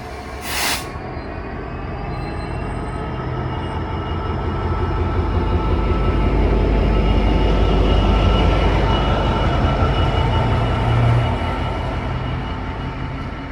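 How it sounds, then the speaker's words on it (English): Freightliner Class 66 diesel locomotive on the West Highland Line near Crianlarich, on a route-learning run, producing a loud, steady rolling rumble of wheels and engine that swells in the middle and eases slightly toward the end, with no voices. "Freightliner 66s eventually saw use on workings such as this, a route learning trip from Creamlarich ahead of engineering work this autumn."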